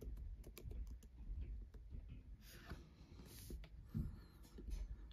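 Typing on a MacBook keyboard running macOS Ventura on an M1 chip, entering a command in Terminal: a quick, irregular run of close, light key clicks over a faint background hum.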